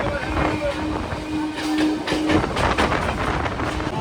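A crowded local passenger train rolls along on the route toward Bakkhali from Kolkata, its steady rumble and clattering wheels continuous and close, with a faint tonal hum early on and general onboard noise throughout.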